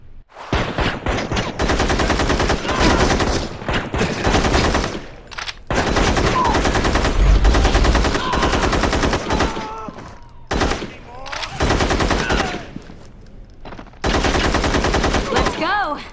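Gunfire in the mobile game Gangstar Vegas 4, with long loud bursts of rapid automatic shots that stop and start across the scene, brief pauses between volleys and a few short gaps of quiet.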